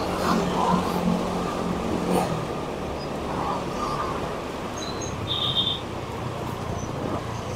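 Dense road traffic jam in a busy Vietnamese street with buses crowding out motorbikes, a steady loud wash of engines and occasional revving, with faint bird chirps above the rumble.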